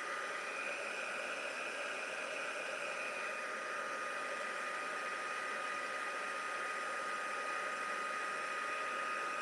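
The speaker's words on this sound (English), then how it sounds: "a piece of cardstock to do that with the white embossing. And let's go ahead and heat set this." A heat gun sets white embossing powder on cardstock, giving a steady, even whooshing blower hum that runs unbroken throughout at moderate level, with no speech.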